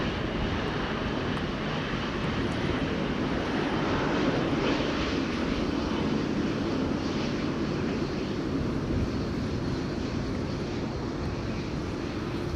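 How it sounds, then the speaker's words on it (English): Steady, continuous jet engine roar from a KLM Boeing 787-10 Dreamliner at Amsterdam Schiphol Airport during stormy weather, heard at a distance and holding even throughout with no pauses. "KLM flight 605 to San Francisco, 787-10 Dreamliner"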